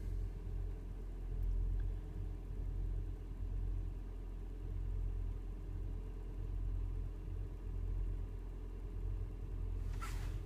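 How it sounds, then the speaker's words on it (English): The engine of a Toyota Prius runs steadily at idle, a low, constant rumble heard close by, with no talk over it. "I turned the heat on high to get the engine going"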